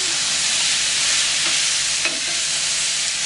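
Diced tomato hitting olive oil on a hot plancha griddle alongside mussels, producing a steady, loud, dense sizzle and frying hiss that holds evenly throughout without talk.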